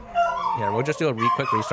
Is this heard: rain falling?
no